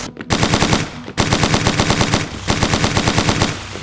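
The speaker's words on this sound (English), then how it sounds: "I generally enjoy shotguns and machine guns" A machine gun fires in a Lovecraft-themed video game, sending loud, rapid bursts of automatic gunfire with a brief pause between bursts.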